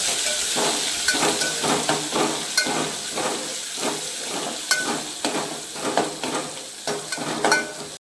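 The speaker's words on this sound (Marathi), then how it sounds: "तेल चांगलं तापलेलं आहे तर आपण याला आलं लसूण पेस्ट टाकून घेऊ" Ginger garlic paste dropped into hot oil for a homestyle mutton rassa, giving a loud, close, continuous frying sizzle with faint stirring scrapes throughout, ending abruptly.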